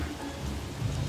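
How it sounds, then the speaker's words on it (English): Steady patter of video game rain falling, a soft continuous wash with low rumble underneath, no voices. "Raining."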